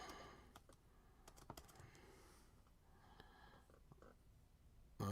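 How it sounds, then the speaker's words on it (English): Quick bursts of keystrokes on a computer keyboard, faint and uneven, with short pauses between clusters of taps and a louder thump at the very end. "Let's see what happens when I type this in."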